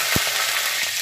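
Curry leaves and a pinch of asafoetida sizzling in hot ghee, a loud, steady, close crackle with a couple of soft thuds, and no voices.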